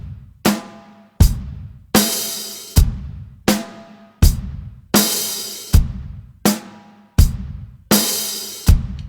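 Drum kit beat played with the open hi-hat falling on beat four with the snare, a steady repeating bar of crisp kick, snare and cymbal hits where the open hi-hat rings in a bright wash before closing, loud and close with no voice.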